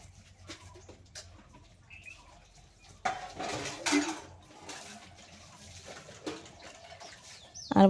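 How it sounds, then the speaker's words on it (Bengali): Metal plates and pots are scrubbed and rinsed by hand with cold water outdoors beside a clay cooking hearth, giving scattered clinks, scrapes and splashes with a few louder clatters, while birds call faintly in the background. "তো এখন শুধু এই থালা বাসন মেজে আখা ধরিয়ে দেব উনানটা"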